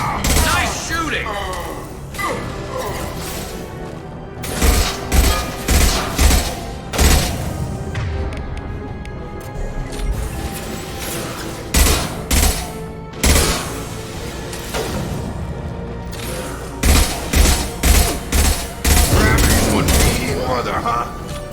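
Gunfire from the video game Mass Effect 2 Legendary Edition rattles in loud repeated bursts and volleys with mechanical clacks, while characters' voices call out between and over the shooting.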